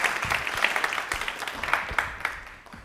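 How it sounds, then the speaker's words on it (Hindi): Loud applause from a studio audience at a Women's Day quiz show, dense clapping sustained for about three seconds and tapering slightly toward the end. "जोरदार तालियां"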